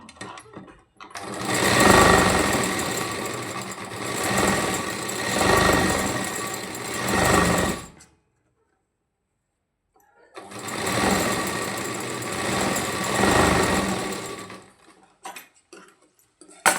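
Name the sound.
sewing machine topstitching fabric lining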